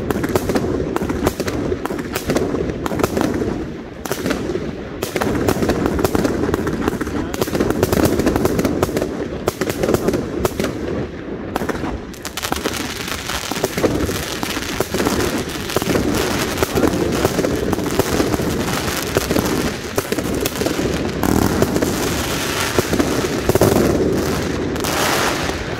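Funke Roter Baron firework battery fires a long, loud, continuous barrage of crackling bursts and rapid bangs, with occasional voices underneath.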